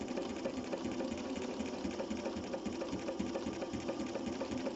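A vintage Singer 301 sewing machine, mounted in a table, stitching through folded dense linen, giving a steady, fast, even mechanical whir with a rapid needle beat, close and continuous, no talking.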